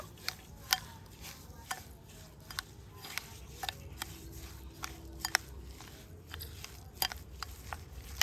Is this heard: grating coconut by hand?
yes